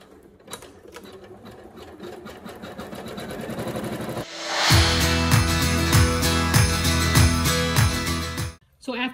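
A single-needle embroidery machine runs a placement stitch for an in-the-hoop reindeer hand sanitizer holder, starting with a loud steady whir and rapid needle chatter after a quieter lead-in, continuing alone until a brief stop near the end.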